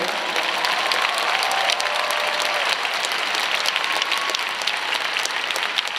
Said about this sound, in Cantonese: 所以請大家俾多啲掌聲